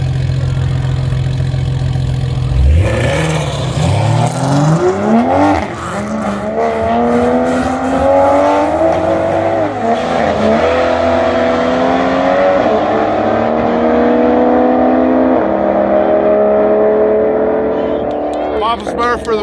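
Race cars launch in a rerun race, engines roaring loud and close, then revving up through rising gear pulls that hold a sustained howl to the end, with a voice heard over the engines.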